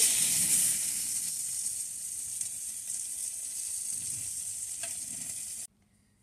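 Hilsa fish frying in hot oil gives a steady, close sizzling hiss that holds evenly for several seconds, then cuts off abruptly near the end.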